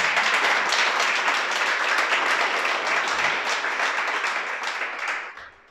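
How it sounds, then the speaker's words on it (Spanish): A congregation at a Torah teaching gathering claps in sustained, dense applause that stays loud for several seconds before fading out at the end. "Un aplauso al Creador."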